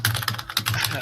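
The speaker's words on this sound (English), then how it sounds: "his keyboard's gonna sound something like this" Fast typing on a computer keyboard for an osu! player, quick uneven clacks close up, with faint speech in the background.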